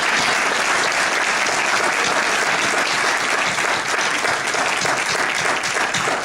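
A dense, loud round of applause from a large crowd at a political gathering, continuous heavy clapping holding steady throughout.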